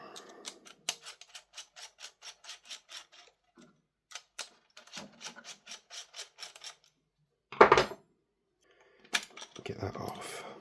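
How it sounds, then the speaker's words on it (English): Screws being backed out of a VFC AV74M airsoft rifle's tactical kit, heard as close, quick ticking and rasping clicks in rhythmic bursts, broken by brief pauses and a couple of louder knocks near the end. "Let's pull these screws out."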